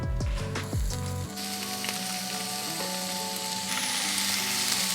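Patties frying in oil in a pan, a steady loud sizzle that starts after a few clinks and continues crackling evenly throughout.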